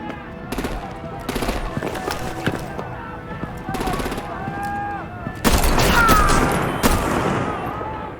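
Gunfire and artillery in Batman: The Enemy Within, loud bursts of rapid automatic fire with heavy booms, separated by short pauses, then a sustained louder barrage near the end, with voices shouting over the fighting.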